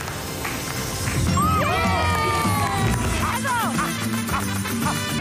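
Studio audience on a game show cheers and applauds loudly for a contestant, a dense burst of clapping and shouts swelling in the middle with whistles and excited voices over music.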